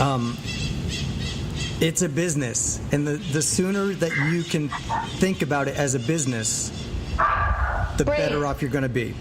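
A dog barks and yips in bursts indoors, close to the microphone, mixed in with a man's continuous conversational speech.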